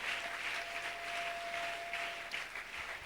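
A church congregation claps together in steady, continuous applause that sounds somewhat distant, with a faint sustained tone running underneath.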